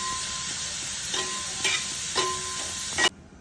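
Sliced onions and curry leaves sizzle in a pan of hot oil, with a few scraping stirs breaking the steady fry before it cuts off abruptly.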